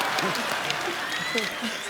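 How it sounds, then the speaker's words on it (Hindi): Studio audience applause on a Hindi comedy talk show, steady clapping running throughout while voices talk over it. "अनिल सर के लिए जोरदार तालियां"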